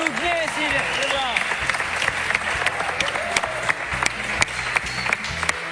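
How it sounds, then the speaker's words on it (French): An audience applauds interviewee Anouck Jaubert at a televised event, a dense, loud wave of clapping with a few sharper individual claps, while a voice talks over it. "un tonnerre d'applaudissements pour Anouk Joubert"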